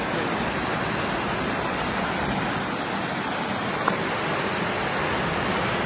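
Steady, broadband rush of a waterfall on an icy creek, constant and fairly loud with no pauses or voices.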